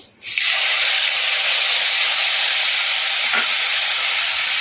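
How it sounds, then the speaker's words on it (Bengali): Ground cumin and coriander spice paste hitting hot oil tempered with cumin seed and bay leaf for a Bengali bhetki fish curry, bursting into a loud, sustained, steady hiss close by. "ফোড়নটা ভাজা হয়ে গেছে, বেটে রাখা মশলাটা দিয়ে দেবো।"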